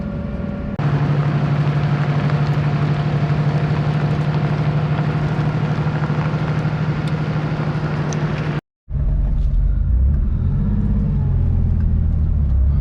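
A vintage Porsche 911 pulls away with a steady, loud engine drone and low rumble that holds for several seconds, breaks off briefly, then returns rougher with rising revs, heard close from the car.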